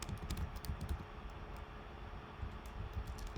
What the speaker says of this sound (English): then we type welcome to Code Jogging